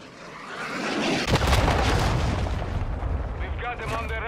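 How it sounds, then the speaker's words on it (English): Cruise missile strike in the video game Call of Duty: Modern Warfare II: a heavy, sustained explosive roar bursts in after a quieter opening and rumbles loudly for several seconds, with game voices and effects layered over the tail. "Cruise missile incoming."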